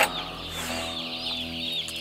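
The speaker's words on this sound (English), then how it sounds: "So these chickens are about 2 days old right now." Two-day-old chickens cluck and chirp close by in a continuous, busy chorus, with overlapping calls and no talk over them.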